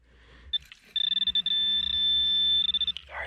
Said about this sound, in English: I picked up my detector and whatever it is right over there.